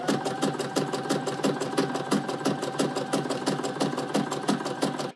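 Sewing machine doing free-motion quilting with a quilting foot, a fast steady needle chatter of evenly spaced stitching ticks, close and continuous without pause.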